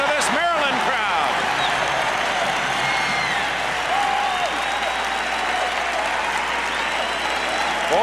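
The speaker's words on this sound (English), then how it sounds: "listen to this Maryland crowd" A Maryland basketball crowd at Cole Field House roars and applauds during a timeout, a dense, sustained wall of cheering and clapping with whistles, steady and loud throughout, under a broadcaster's voice.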